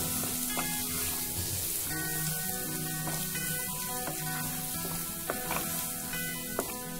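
Spice paste and onion fry in oil for an Assamese chicken korma, a continuous close sizzle with scattered crackles and faint clinks, no voices.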